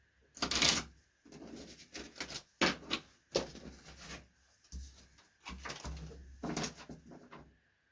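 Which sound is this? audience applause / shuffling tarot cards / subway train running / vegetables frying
shuffling tarot cards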